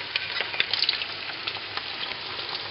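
Breaded cordon bleu fries in hot oil. A dense, steady crackling sizzle runs close and fairly loud throughout, with small pops and spatters scattered on top and no voices.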